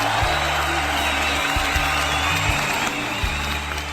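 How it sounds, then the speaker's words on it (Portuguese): Congregation applause at a Monday church service, steady sustained clapping from a crowd with faint cheering, continuing throughout under a low musical hum. "E o aplauso da galera de segunda-feira."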